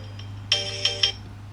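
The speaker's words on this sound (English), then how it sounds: "That was my alarm." A phone alarm goes off nearby, sounding three quick bright electronic tones in a short burst over a low steady hum, with no talking.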